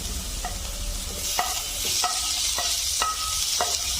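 Tomatoes go into sautéed onions in a pan, a constant bright sizzle broken by a series of sharp spatula knocks and scrapes against the metal, spaced about half a second apart.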